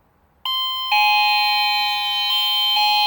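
A doorbell chime from a home intercom unit under repair sounds as a loud, sustained electronic tone that starts abruptly, steps up in pitch, and then holds steady with slight shifts, close and without any talking.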